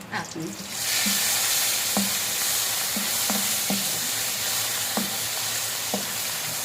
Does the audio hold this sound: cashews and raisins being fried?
yes